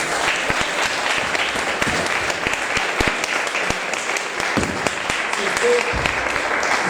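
A church congregation claps together in a strong sustained round of applause, dense and even from start to finish, with a few voices mixed into the crowd noise.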